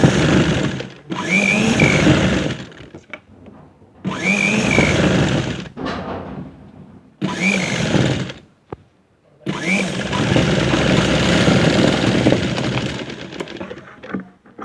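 Sewing machine stitching a jacket strip with a one-foot margin, running in several loud bursts of steady whirring separated by short pauses, close by and with no talk.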